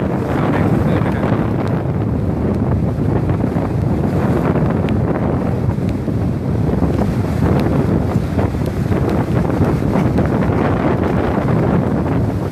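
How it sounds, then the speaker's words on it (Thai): Strong storm wind from Storm Pabuk roars steadily across a boat pier at Pak Phanang on the Gulf of Thailand, a loud, continuous buffeting on the microphone with surf mixed underneath. "ลมแรงแต่ฝนไม่แรงนะครับ"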